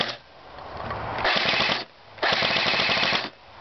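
An airsoft turret gun fires on full auto outdoors toward a lake, two sustained rapid bursts of clattering shots with a short pause between them and a lighter buzzing before the first burst.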